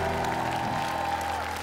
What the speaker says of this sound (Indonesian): tepuk tangan sekali lagi dong buat Putri